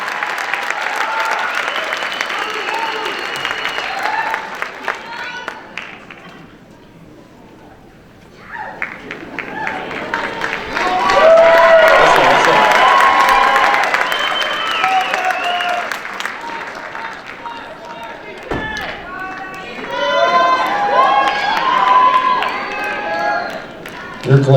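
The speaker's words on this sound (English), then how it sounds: "Let's give them another big round of applause." An audience at a high school band concert applauds a jazz band, with dense clapping that dips briefly, then swells with cheering before easing again, while an announcer speaks over part of it.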